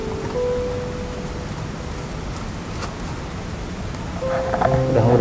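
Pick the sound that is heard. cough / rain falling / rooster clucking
rain falling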